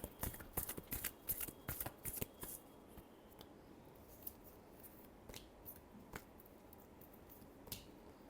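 Tarot cards being shuffled by hand in a last shuffle, a quick run of crisp riffling snaps and flutters up front that thins into sparse, softer card flicks and taps.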